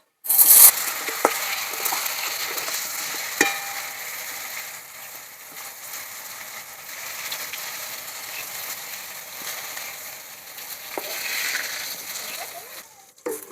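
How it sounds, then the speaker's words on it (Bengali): Brinjal slices rubbed with salt and turmeric fry in hot oil in a pan, producing a steady, fairly loud sizzling hiss throughout with a few sharper crackles and spits. "বেগুনগুলো ভালো করে মাছের মতন ভেজে নেব।"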